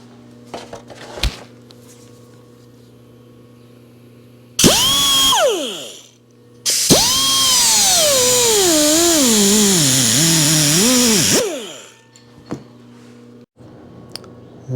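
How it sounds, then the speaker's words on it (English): An air chisel cuts welds on a Suzuki RM250 motorcycle, running in two loud, close bursts: a short one, then a longer sustained hammering whine with a wavering pitch, separated by quiet pauses. "I'll try to get under it with the air chisel"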